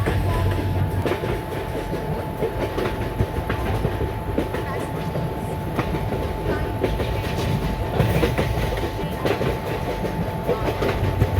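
A train runs steadily in the Indian Train Simulator video game on the Ahmedabad to Vadodara line, with continuous rolling rumble, rhythmic wheel clatter and a steady tone throughout.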